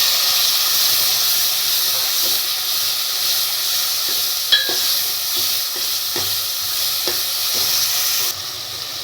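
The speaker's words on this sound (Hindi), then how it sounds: "अब देखिए, कटे हुए टमाटर डालेंगे इसमें।" Chopped tomatoes hiss loudly in hot oil tempered with mustard seeds, asafoetida and curry leaves for rasam. A strong, steady sizzle runs throughout, with a few faint clinks from stirring.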